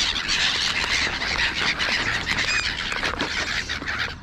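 Gulls and crows squawk and call continuously during a Saturday morning feeding where ducks and pigeons also gather, a dense, busy chorus of close, overlapping cries with no pauses.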